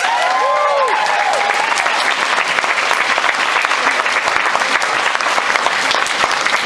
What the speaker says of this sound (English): Everyone give Douglas Adams a round of applause.